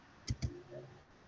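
Computer mouse clicking on a desk: two quick, crisp clicks close together, near and fairly quiet, then faint background hiss.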